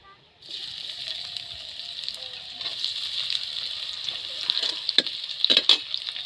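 Chopped onions hit hot oil in a pan for ghugni, a Bengali-style veg dish. After a brief quiet start, a bright, steady sizzle rises and holds, with occasional stirring scrapes and pops growing louder toward the end.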